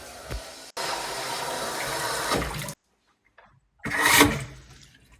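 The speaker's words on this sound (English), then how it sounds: "So water back on, taps on." Water gushes from taps turned back on after servicing an Oso unvented hot water cylinder, a steady loud rush that stops abruptly, then a short burst of flow after a pause.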